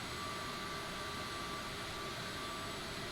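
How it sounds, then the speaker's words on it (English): A CRJ-700 regional jet engine spools up during start in a flight simulator game, giving a steady, loud, broadband roar with a faint high whine, continuous and close, with no voices. "while that engine finishes starting"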